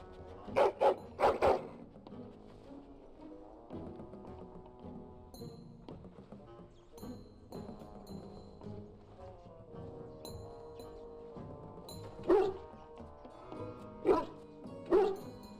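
A dog in Dragon Age: Origins barks a few times in close, sharp bursts, then whines and whimpers softly between them, with more barks near the end over quiet game ambience.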